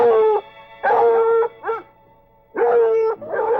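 A trained pack of hunting hounds on a lion's scent bays and howls in long, drawn-out cries, several close and loud bursts separated by short pauses.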